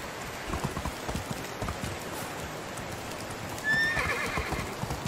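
A horse in the video game Medieval Dynasty gallops with a steady rapid clatter of hooves under light rain-like ambience, then gives a clear whinny near the end.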